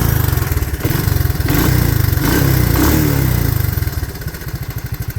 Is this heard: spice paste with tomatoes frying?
no